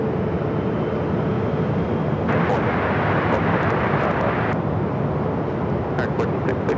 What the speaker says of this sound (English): This is a Honda Jet